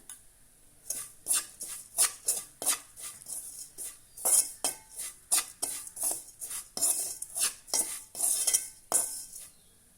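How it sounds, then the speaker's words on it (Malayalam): A spoon scrapes and clinks around a metal pan as chili powder is stirred into spicy fish curry, with rapid, irregular strokes close up and no voices. "നല്ലതുപോലെ ഒന്ന് മിക്സ് ചെയ്ത് കൊടുക്കാം"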